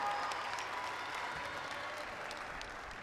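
A crowd at a women's squash match applauds with steady, moderately loud clapping that carries on evenly through the whole stretch, with no voices over it.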